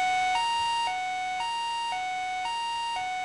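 Ambulance siren in the Mega Man Star Force 3 video game, a synthesized two-tone wail alternating high and low notes about every half second, steady and clear with no talking.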